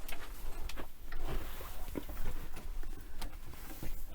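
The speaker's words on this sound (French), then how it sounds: "Ah, il repleut." Rain patters on the roof of a 1989 Hymer B544 camper van, irregular close drops and taps scattered over a soft steady background.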